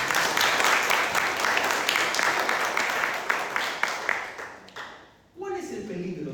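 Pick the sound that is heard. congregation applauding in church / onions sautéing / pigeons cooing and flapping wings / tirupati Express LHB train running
congregation applauding in church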